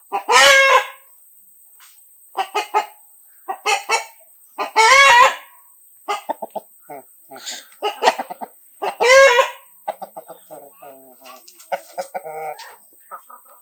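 An Aseel rooster, a tall, heavy fighting breed, crows loudly and repeatedly at close range, with bursts of clucking and short calls between the crows and quiet gaps in between.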